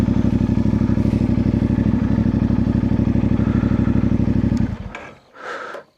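A motorcycle idles close by at a mountain view deck, its engine chugging in a steady rapid thump before it is switched off and cut to silence, followed by a brief rustle.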